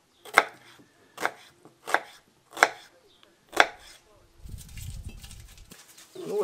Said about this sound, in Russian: Поэтому можно просто быстро резать и заселить дно, чтобы сразу лук пустил сок.